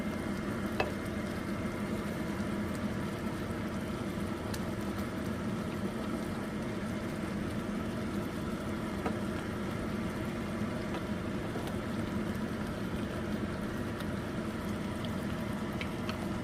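Leftover turkey lechon paksiw cooks in a pan with a steady, close bubbling sizzle. The sound holds evenly throughout with occasional faint stirring clicks and no talk.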